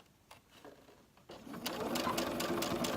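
A sewing machine stitches a zipper in place, starting after a quiet stretch with a few soft handling sounds, then running as a loud, steady mechanical whir with rhythmic needle clatter.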